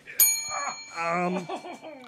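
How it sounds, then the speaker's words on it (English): A single bright bell ding rings out once, sharp and short, then fades as voices chatter and chuckle right after. "Ring the bell."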